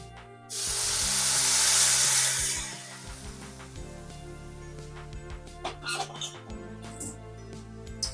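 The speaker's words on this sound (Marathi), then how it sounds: "त्याच वाटीने 2 वाट्या पाणी टाकायचं तांदळामध्ये" Hot water poured into rice in a pan while cooking coconut rice gives a loud hissing, sizzling rush lasting about two seconds, then a quieter stretch of faint clinks and bubbling.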